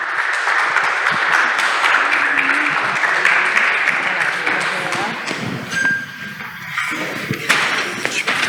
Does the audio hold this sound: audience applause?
yes